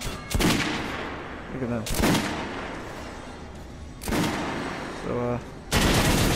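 Gunfire in the video game Metro Last Light Redux on PS4: several loud bursts of shots in separate volleys, with a voice talking between them.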